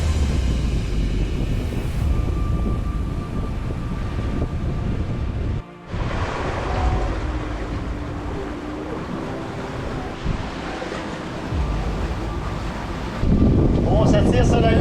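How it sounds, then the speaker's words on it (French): Strong open-sea wind of 15 to 20 knots buffets a microphone aboard a sailboat off Saint Vincent and the Grenadines, a constant roaring rush mixed with water and hull noise, loud throughout with a brief dropout. "Nous avons entre 15 et 20 nœuds de vent sur la hanche là, au large."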